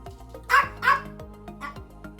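Small dog Bella giving two quick, high woofs close by, the pair of barks clear and separate, followed by faint soft sounds in a quiet indoor space.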